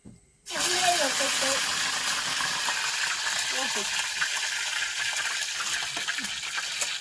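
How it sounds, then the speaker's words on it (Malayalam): Kilimeen fish dropped into hot oil in a pan, an abrupt loud sizzle that settles into continuous close frying crackle and hiss, with someone speaking over it. "ഞാൻ മീൻ വറുക്കാൻ വേണ്ടി രണ്ട് ബാക്കിയുള്ള രണ്ട് എടുത്ത്"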